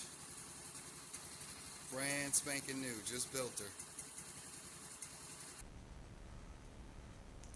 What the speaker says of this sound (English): My Tao 2014 she's idling low, but this is the first start